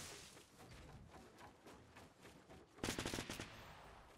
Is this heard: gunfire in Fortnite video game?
yes